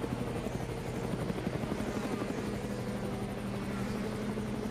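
Helicopter hovering over the Zandvoort racing circuit during a 2018 DTM touring-car race, a steady loud rotor thump and turbine whine filling the whole stretch with no voices.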